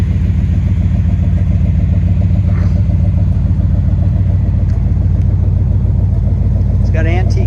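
A 1970 Oldsmobile 442 Y74 pace car engine idling, a loud, steady, close low rumble with a regular pulsing beat throughout, and a brief voice near the end.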